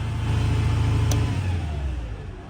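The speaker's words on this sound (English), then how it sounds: "That's a high and low engine speed." Boom truck engine running at high engine speed, a loud close mechanical drone with steady pulsing that then drops lower partway through.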